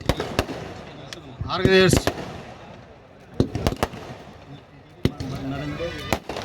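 Firecrackers burst at an outdoor sports event hosted by a former minister and MLA: several sharp, loud cracks, a few in quick pairs, are scattered across the clip over crowd noise, and someone speaks through a loudspeaker between them.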